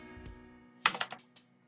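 A few keys pressed on a computer keyboard during router configuration, a quick cluster of clicky strokes ending in a firmer tap, close and clear over a steady electronic hum.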